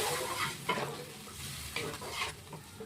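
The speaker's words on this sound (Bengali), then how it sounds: "জল ঢেলে দিচ্ছি।" Water hits a hot pan for a Bengali fish and potato curry, setting off a steady hissing sizzle with a few louder splashy bursts, close and moderately loud, with no voices.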